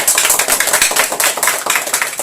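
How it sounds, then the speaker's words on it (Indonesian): A worshipping crowd claps for Jesus at a family prayer gathering, loud, dense, continuous applause without any voices over it. "Mari tepuk tangan dulu buat Tuhan Yesus."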